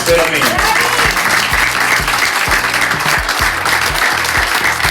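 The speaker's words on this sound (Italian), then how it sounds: "un applauso a tutti e due" A studio audience claps steadily and loudly at a Sicilian quiz or game show. The clapping is dense and continuous throughout.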